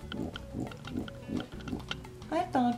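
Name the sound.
voice imitating a pig oinking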